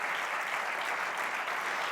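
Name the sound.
audience applause at a conference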